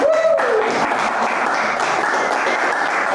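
Sustained audience applause at a house concert for the performing musicians, a dense, even wash of clapping close by, heard alone.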